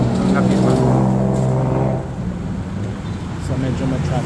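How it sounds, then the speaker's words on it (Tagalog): Night road traffic on a busy Bangkok street in the Pratunam district, a steady engine rumble and passing-vehicle hum under close conversation, loudest in the first two seconds before settling into a constant background wash. "So medyo ma-traffic na siya."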